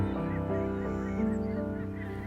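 American white pelicans give continuous honking, goose-like calls with harmonic bands, steady and fairly close, with no talk.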